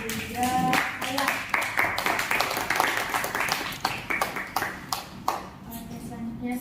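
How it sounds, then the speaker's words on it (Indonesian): A group claps in a brisk, uneven burst for delegates at a model ASEAN summit meeting, gradually tapering off, with a voice briefly heard at the start. "mari kita berikan tepuk tangan terlebih dahulu"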